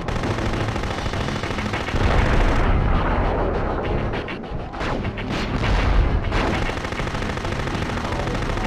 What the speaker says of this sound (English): Did that missile split? Oh, it's like a cluster shot.